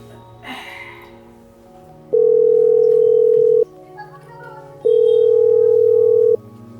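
Two long, loud, steady telephone dial-tone beeps sound while someone places a call to a hotel manager, with quiet background murmur and faint voices between the tones.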